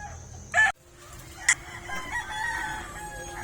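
Chickens belonging to different owners cluck and call near a mango tree, with a sharp close squawk and a brief cry over a faint yard background.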